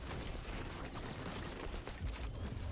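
Gunfire and battlefield noise fill a Call of Duty-style first-person shooter match, dense and continuous with a rapid crackle of shots throughout, no talking.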